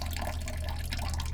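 A weak trickle of water runs from a household tap during a low-pressure supply, giving faint steady dripping and splashing over a low background hum.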